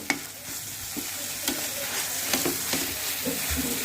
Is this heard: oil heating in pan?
yes